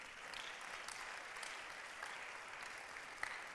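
Church congregation clapping steadily for the Lord during a Spanish-language sermon, a dense, sustained applause with no break.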